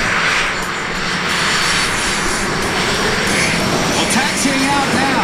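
Four Northrop F-5 Freedom Fighter jets taxiing at the MCAS Yuma airshow give a steady, loud engine whine and roar that hangs over the field with faint crowd ambience.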